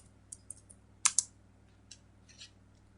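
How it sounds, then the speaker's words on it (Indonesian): A few scattered keystrokes on a computer keyboard while a script is typed, light clicks close by with one quick double tap standing out in a quiet room. "Sekarang kita ketik scriptnya"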